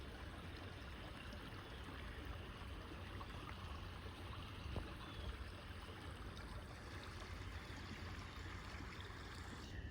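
Steady broadband rush of flowing water near a waterfall, continuous and fairly loud throughout, like a stream or cascade nearby with no voices.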